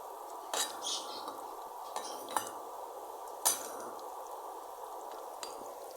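Metal utensil clinks against a frying pan as banana flower fritters are flipped one by one: a few sharp, scattered taps and scrapes over a soft frying hiss, close and fairly quiet, with no talk.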